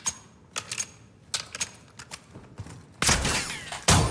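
Gunfire in the Modern Warfare 2 DMZ video game, with scattered single and short bursts of shots early on, then louder, denser firing near the end, heard without talk.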